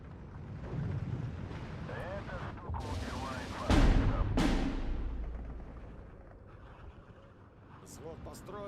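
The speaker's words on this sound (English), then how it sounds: "Just gonna keep arting whatever I see with my mortars." Mortar fire in the WW2 strategy game Steel Division 2, a sudden heavy boom with rumbling follow-up blasts amid battlefield noise, while someone talks over it throughout.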